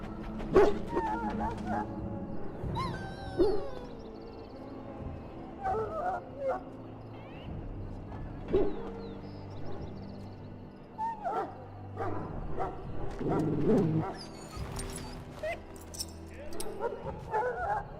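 A dog in the video game Dragon Age: Origins gives short barks, yips and whimpers scattered across the scene, mixed with other game sounds and voices talking.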